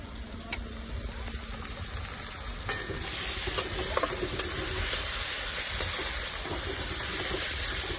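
Chopped ginger fries in a pan with a steady, even sizzle and hiss, broken by scattered clicks and scrapes from stirring, with no talking.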